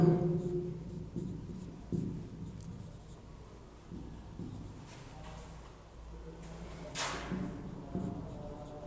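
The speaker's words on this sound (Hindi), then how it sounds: "चलो मैं कुछ क्वेश्चन लिख लेता हूँ पहले।" Math questions are written out by hand, with soft scratchy strokes coming in short intermittent bursts at low volume and a little background noise between them.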